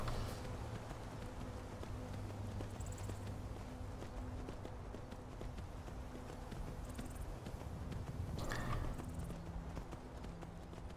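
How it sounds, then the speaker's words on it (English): Horse hooves clip-clopping in the video game Skyrim, a steady rhythmic beat of footfalls running under continuous game ambience and music, with no one talking. "Got on the horse."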